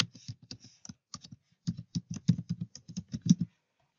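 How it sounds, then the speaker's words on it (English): An email address typed on a computer keyboard: a quick, uneven run of close, crisp key clicks, pausing briefly near the middle and then stopping. "I'm going to type in my email address over here."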